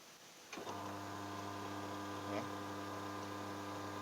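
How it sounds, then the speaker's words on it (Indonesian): The wash motor of a Sharp washing machine runs on test, a steady electric hum that starts abruptly and holds evenly at moderate level. "Saya akan tes pencuci."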